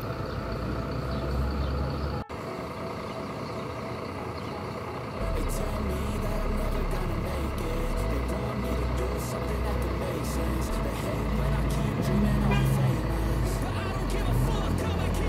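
An ANS Royal Class Mercedes-Benz OH 1626 bus rumbles with a steady low engine drone at the Busur terminal in Padang Panjang, loud and continuous, with a brief drop and shift in tone early on.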